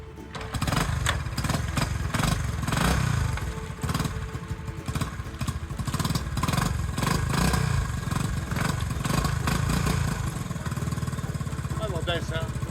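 A Honda CT90 motorcycle with a freshly replaced clutch runs steadily and loud up close, its small engine chugging and revving unevenly throughout, with a voice talking over it.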